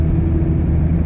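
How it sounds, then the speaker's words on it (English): Steady low rumble of off-road tires rolling on paved country road and highway at around 45 to 50 mph, heard from inside the closed car cab with windows up, continuous and even with no talking. "I'm just trying to show you the tire noise in the cab"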